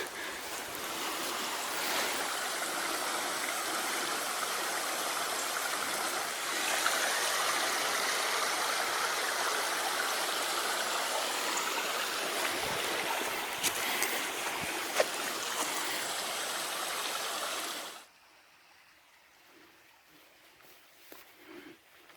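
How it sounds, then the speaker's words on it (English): Rushing water of a stream flows steadily and fairly loud for most of the time, then cuts abruptly to near quiet with faint outdoor sounds, at the Alberni Summit on the E&N Railway. "the stream is still here that used to feed the water tower"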